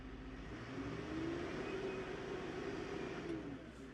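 A 135-horsepower tractor with a Perkins engine idles smoothly and evenly, a soft, steady mid-pitched hum heard faintly and without speech.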